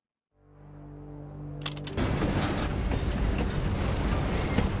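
A train in the RAILGRADE railway-building video game loops endlessly around its track: engine hum fades in, then a steady rolling clatter of wheels on rails carries on evenly and fairly loud, with no talk.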